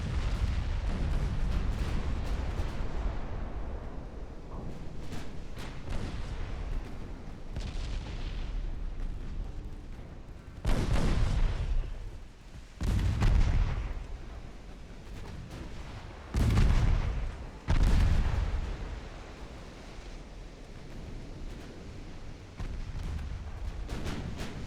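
Naval guns fire in a battle in the Ultimate Admiral: Dreadnoughts video game. Several heavy booms land at spaced intervals over a steady, dense roar of battle noise.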